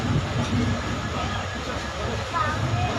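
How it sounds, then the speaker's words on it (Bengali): A passenger train pulls out of a station, a low steady rumble and rolling hum under people talking nearby throughout. "এখন 1টার সময় ট্রেনটা ছাড়লো"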